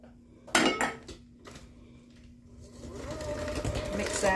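An electric mixer blends flour, baking soda, baking powder and salt for lemon orange sour cream cookies; a few clinks of bowl and utensils come first, then a steady close motor whir builds and runs to the end.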